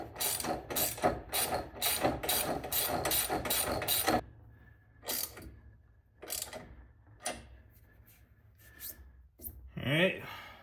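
A hand ratchet tightening crash bar bolts on a custom bagger motorcycle gives quick runs of sharp clicking for several seconds, then scattered short bursts of clicks, close and clear.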